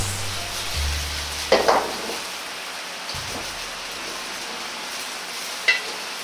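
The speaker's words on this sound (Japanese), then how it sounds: "焦げないように中火でじっくりと炒めていきます" Burdock root stir-fried slowly over medium heat gives a soft, steady sizzle, with a few clattering stirs and a low rumble early on and a sharp clink near the end.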